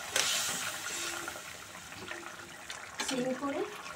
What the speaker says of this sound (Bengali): এবার এর মধ্যে আমি আমার গরম জল, ফোটানো জল দিয়ে দিচ্ছি আলুগুলো সেদ্ধ হওয়ার জন্য।